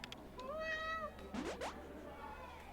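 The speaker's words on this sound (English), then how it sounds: "I gotta pet this cat first, right?" Cartoon cat meowing in the indie adventure game A Space For The Unbound, two clear rising meows close up over a soft game music bed, with no talk.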